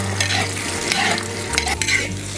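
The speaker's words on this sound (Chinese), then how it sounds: "炒鸡蛋" Eggs stir-fry in a hot wok over a loud, continuous sizzle, with scraping stirs and clatter throughout, close up and with no talking.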